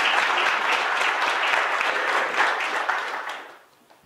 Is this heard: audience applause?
yes